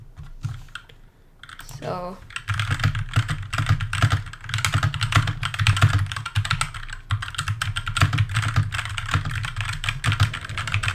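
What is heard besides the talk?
typing on HK GK61 60% mechanical keyboard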